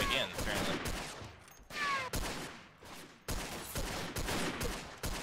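Gunfire in the World War I shooter Verdun, with repeated loud rifle and machine-gun bursts cracking close, separated by short pauses, and a voice talking faintly underneath.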